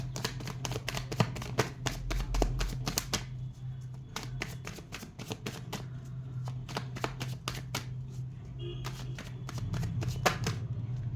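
Tarot cards riffled and shuffled by hand in repeated quick bursts of crisp flicking, a short pause midway, close and steady over a low background hum.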